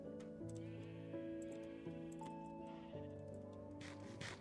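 Minecraft sheep bleat in a steady run of wavering, tonal cries that overlap and follow one another closely, fairly loud and close with nothing else heard behind them.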